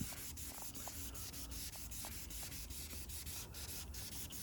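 Hand sanding of clear coat on a Porsche 914 paint job: a close, quiet, rhythmic rasping of back-and-forth strokes, each stroke a short scratchy swish repeating steadily, with no voices.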